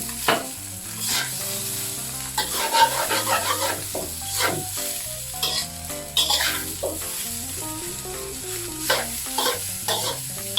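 Cooked rice stir-fried in a large pan with shrimp for Thai fried rice, a big batch for four: steady scraping of the spatula and continuous sizzling, with repeated clanks of metal against the pan, close and loud, with no talk.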